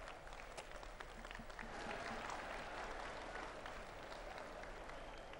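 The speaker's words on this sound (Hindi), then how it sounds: "और यह आपकी तालियां" Audience applause fills a hall at the inauguration of the Patanjali Research Institute in Haridwar, a steady continuous clapping crowd heard alone without talk.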